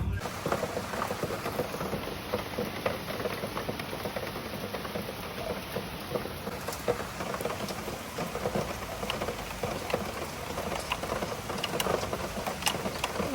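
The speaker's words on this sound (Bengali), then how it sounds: "বৃষ্টি পড়া স্টার্ট হয়ে গেছে" Steady rain falls outside a home, heard as a continuous soft hiss that stays fairly faint and even throughout, with no voices.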